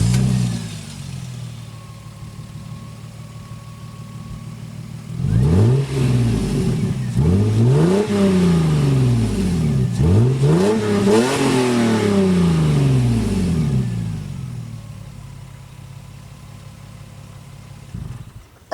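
Lexus GS300 with a QTP 2.5-inch exhaust cutout idles, then revs hard several times in rising and falling sweeps before settling back to a steady idle, loud and close with no talk.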